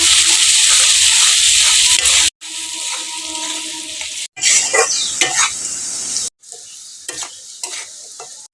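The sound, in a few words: potatoes frying and being stirred in a pan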